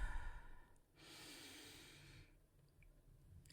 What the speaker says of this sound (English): Let's breathe in.